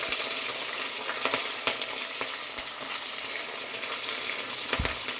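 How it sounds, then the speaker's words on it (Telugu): Peanuts fry in a pan with a steady close sizzle, scattered sharp crackles and pops breaking through the hiss at irregular moments, alone without talk. "చూడండి, పల్లీలు మంచిగా ఫ్రై అయినాయి, చిట్చిటా అంటున్నాయి కదా"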